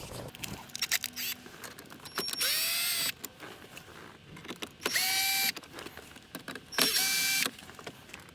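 An electric driver with a T20 Torx bit backing screws out of a BMW dashboard during a screen install, giving three separate whirring runs of about a second each, close and clear, with small clicks and handling noises between them.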